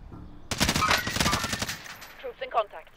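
M16 rifle fire in Call of Duty: Warzone, a rapid burst of shots at long range lasting about a second and a half and then tapering into scattered fainter reports and echoes.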